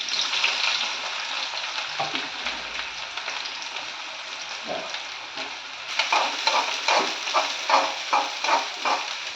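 Sliced onions frying in hot oil for veg manchurian, a loud steady sizzle that turns busier and more crackling partway through, with rhythmic stirring scrapes.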